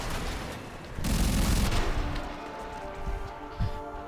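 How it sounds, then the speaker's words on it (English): Enemy gunfire in a video game erupts as a dense rattle of shots and a heavy booming burst, with scattered thumps and echoing reports afterward, fairly loud throughout. "you wait till the enemy starts shooting at you."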